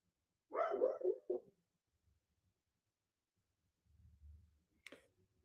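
A pet dog gives a short burst of two or three quick barks, close and fairly loud, then falls quiet apart from faint low rustling and a brief sharp tick.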